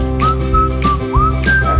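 A pressure cooker on a gas stove, cooking rice, gives off loud, steady hissing with rising whistle-like tones, close and continuous, with no talk.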